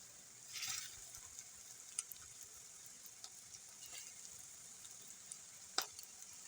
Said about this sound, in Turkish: orta ateşte kızartıyorum